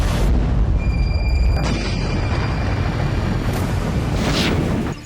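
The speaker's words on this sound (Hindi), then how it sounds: "रेजान ऑयल रिफाइनरी में फिर ड्रोन से धमाका हुआ है" A drone strike blast at the Ryazan oil refinery, a deep sustained roaring boom with heavy low rumble that fills the whole stretch and fades slightly at the end, no voices.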